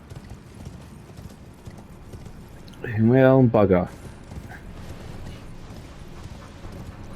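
Horse hooves clip-clop steadily throughout in Elden Ring, with a short spoken remark partway through.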